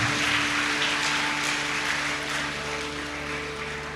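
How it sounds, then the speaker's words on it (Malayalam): A speech audience claps steadily, a dense wash of applause that fills the whole stretch and fades slightly toward the end, with a constant low electrical hum underneath. "ഒരു കയ്യടി കൂടി എല്ലാവരും ചേർന്ന് സമ്മാനിക്കുക"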